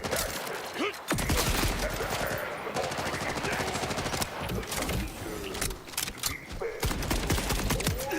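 Turrets firing rapid automatic gunfire in a video game, loud and nearly continuous volleys of bursts that overlap and fill the whole stretch, with brief dips between salvos.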